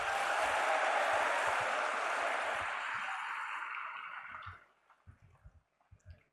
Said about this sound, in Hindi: भाई बहुत जोर से तालियां हो जाए बहन मंजुलता